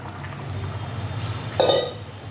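Water splashes briefly into a cooking pan over a low background hum, a short pour near the end.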